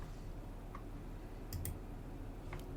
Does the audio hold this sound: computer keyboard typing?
yes